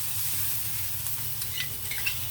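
Chicken pieces going into a pan of onions already frying in oil, giving a steady low sizzle with a few sharp spatters and light stirring scrapes, close and without talk.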